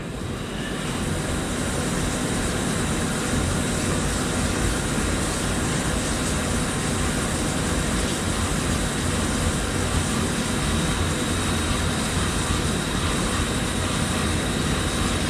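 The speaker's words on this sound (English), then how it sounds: "It's on deep hole drilling with full retracts just to clear the chips." A HAAS VF-0E milling machine deep-hole drilling with full retracts to clear chips, heard as a steady, dense mechanical roar and whine running unbroken throughout, with no voices.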